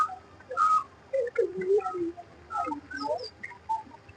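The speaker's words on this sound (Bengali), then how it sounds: "নানা রকমের পাখির চেঁচামেচি শোনা যাচ্ছে" Assorted birds chirp and whistle in a Bangalore park, a busy sequence of short bright calls and trills at close-to-moderate distance, rising and falling in bursts with brief gaps between them.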